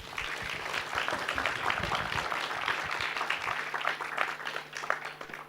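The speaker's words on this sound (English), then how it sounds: "I think let's give them a round of applause" Moderately faint applause from a seminar audience at a retirement-investment talk, an even patter of clapping lasting several seconds with no speech over it.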